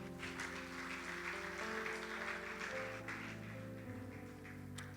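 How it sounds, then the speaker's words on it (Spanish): Church congregation applauding for the Lord during a lively Spanish-language service, steady clapping held under loud music with sustained chords and a bass line, continuous for the whole stretch. "Dale un fuerte aplauso al Señor"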